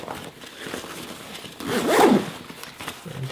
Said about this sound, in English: And then the zippers are not that smooth